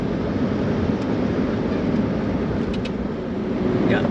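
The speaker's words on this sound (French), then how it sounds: "Pas mal de circulation là" Busy traffic on the Pan-American Highway in a capital city, a loud, continuous roar of passing cars and engines heard from inside a moving vehicle, with no talking.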